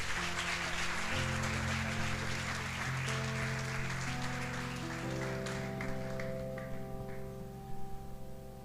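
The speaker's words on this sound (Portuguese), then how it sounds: "Você pode aplaudir o Senhor, meu irmão." Applause during a Brazilian church service, fairly soft clapping running under sustained organ or keyboard chords that shift pitch, thinning out toward the end.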